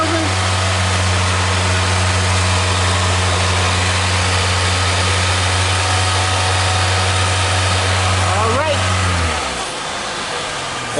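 Nissan Rogue engine held at a steady 3,000 rpm, a loud continuous hum with a low tonal drone, then the revs drop away near the end as the engine settles back toward idle.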